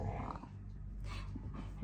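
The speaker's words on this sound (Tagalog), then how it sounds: "Yung aso ko." A dog growls low and rumbling at close range, with a faint whimpering edge and a few sharper breaths, heard alone with no talk.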